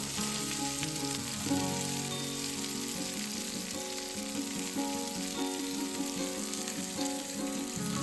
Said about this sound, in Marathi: हे सगळं छान परतून घ्यायचं आहे.